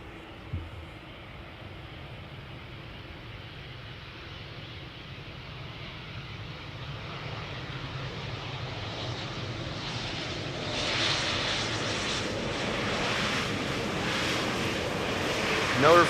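A fixed-wing airliner arriving at Amsterdam Schiphol Airport gives a steady, broad engine roar that builds over time and swells near the end, with wind noise in the background.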